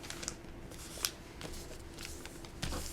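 Wrapping paper being folded and creased by hand, soft crinkles and sharp papery snaps scattered over a few seconds, quiet and close, with no voices.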